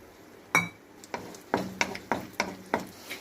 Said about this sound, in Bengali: ড্রাই ফ্রুটগুলোকে হালকা ভেজে নেব।